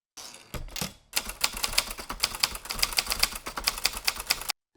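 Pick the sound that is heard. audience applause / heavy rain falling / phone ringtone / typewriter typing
typewriter typing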